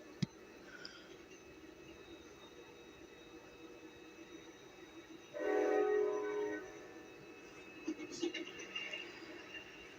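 A Norfolk Southern GP38-2 locomotive hauls a stack train. A steady, faint rumble carries on throughout, with one loud horn blast lasting about a second midway and a few soft clanks near the end.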